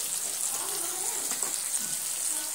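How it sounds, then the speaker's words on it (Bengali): Turmeric, cumin and chili powder with green chilies and salt fry in a pan for an eggplant dish, giving a steady, close hiss and sizzle with faint stirring scrapes. "এবার আমি নেড়ে চেড়ে সুন্দর করে মশলাগুলো কষিয়ে নেব।"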